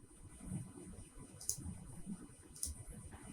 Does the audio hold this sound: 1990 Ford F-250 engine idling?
no